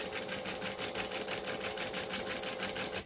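Sewing machine back stitching a joining stitch on a crossbody bag, a rapid, even mechanical patter that runs steadily and close, with no talking.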